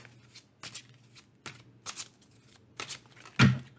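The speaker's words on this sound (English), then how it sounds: "So I'm just going to shuffle." Tarot cards are shuffled by hand in a series of quick riffling bursts separated by short pauses, close and crisp, ending in a louder slap as the deck is squared.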